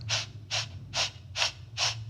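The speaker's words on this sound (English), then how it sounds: "inhale with 5 little kind of sniffs in through your nose" Five short, sharp sniffs drawn in through the nose during a Pilates breathing exercise, evenly spaced in a steady rhythm, close and fairly quiet over a low background hum.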